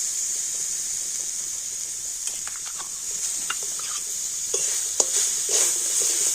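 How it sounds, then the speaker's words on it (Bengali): Grated coconut and date palm jaggery are stirred in a wok over heat: a soft constant hiss with scattered scraping and tapping strokes of the spoon, growing a little busier toward the end. "আর এবার আমি এইভাবে নাড়াচাড়া করে তো সুন্দর একটা পুর তৈরি করে নেব"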